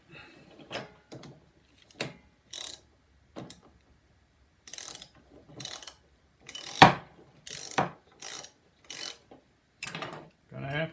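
Ratchet wrench tightening a bolt during a rebuild of a Snapper RER riding mower, a series of short clicking bursts in uneven spurts, close and moderately loud, with no talking.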